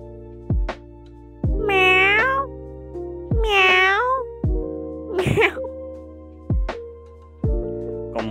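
A cat meows twice, long drawn-out calls, among sharp low thumps and a brief sneeze-like burst, with no talking.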